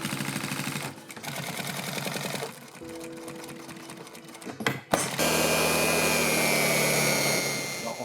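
Sewing machine running in a textile sewing workshop, its steady mechanical stitching loud and continuous, pausing briefly before a sharp knock and then resuming at a faster, brighter hum.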